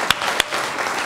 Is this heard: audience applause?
yes